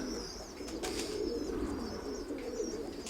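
A pigeon coos close by in a low, rolling murmur, with faint chirps and a brief rustle of wings over steady background noise.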